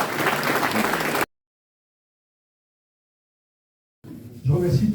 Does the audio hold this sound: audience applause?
yes